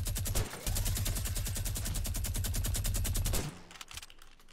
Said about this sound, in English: I'm shooting minigun, honestly.